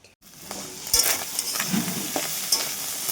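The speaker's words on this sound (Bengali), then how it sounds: "যতক্ষণ পেঁয়াজগুলো একদম বাদামি কালার না হয় ঠিক ততক্ষণ ভেজে নিলেই আমার মাছের ডিম দিয়ে কয়তা ভাজা রান্না একদম কমপ্লিট" Fish roe, snake gourd and onions frying in a pan: a loud, close sizzle with stirring scrapes and a few sharp utensil knocks against the pan, no talking.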